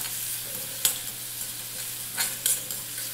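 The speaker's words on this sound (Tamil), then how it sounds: "அதையும் சேர்த்து நல்லா வதக்கி விட்டுடுங்க" Onion and crushed garlic cloves sauté in a hot pan for a raw banana pepper fry, giving a steady close sizzle broken by a few sharp stirring scrapes and clatters.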